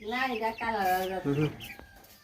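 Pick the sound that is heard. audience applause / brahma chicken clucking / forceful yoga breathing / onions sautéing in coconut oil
brahma chicken clucking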